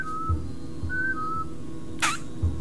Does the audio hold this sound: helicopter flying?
no